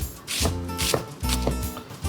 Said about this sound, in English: So I'm just gonna do a nice thin slice on the onion.